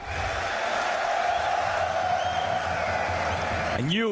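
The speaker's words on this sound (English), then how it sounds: "with this crowd stacking the A-Core arena to the brim" Arena crowd at the Counter-Strike BLAST.tv Paris Major in a packed esports venue, as a loud, sustained roar of cheering and whooping voices, continuous throughout with a rising synthetic sweep near the end.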